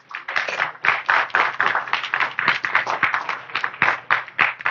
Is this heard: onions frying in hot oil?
no